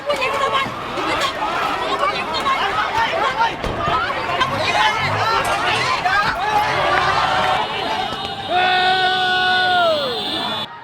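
An angry protest crowd turns on a pro-coup supporter amid unrest over military rule in Thailand, a dense, loud roar of many shouting voices throughout, with a whistle-like tone sliding near the end.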